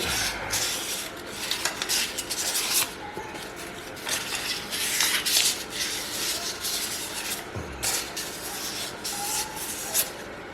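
Fine 1200 grit sandpaper rubs steadily over a new heavy-duty ball joint for a 2021 Jeep JLUR, a continuous close scratchy rasp with brief stroke-by-stroke surges.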